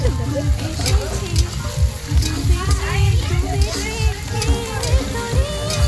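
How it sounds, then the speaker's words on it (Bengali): Capsicum frying in a pan, a continuous sizzle with stirring under loud music with singing. "ক্যাপসিকামগুলো দিয়ে দেবো, ভাজবো"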